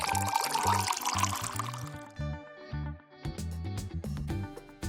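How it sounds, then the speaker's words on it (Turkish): Liquid jelly being poured as another layer onto a set unicorn-themed dessert, a short splashy pour at the start giving way to bright plucked music that carries on alone. "Ve bir kat daha jöle dökelim."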